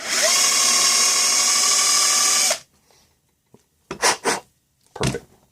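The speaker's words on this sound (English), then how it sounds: "Now, bring my drill over." Power drill cleaning out the primer pocket of a 50 BMG cartridge case during reloading: a loud, close, steady high whir for about two and a half seconds that cuts off abruptly, followed by a few short scraping clicks.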